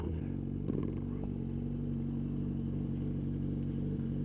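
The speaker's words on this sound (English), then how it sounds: "One-handed downshifting." A motorcycle engine rumbles close and steady, with a brief clatter early on that fits a downshift, under a constant low drone.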